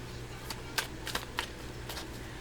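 An old tarot deck is riffled and shuffled close up, a few quick papery flutters and card snaps in short bursts over a low steady background hum, no talk.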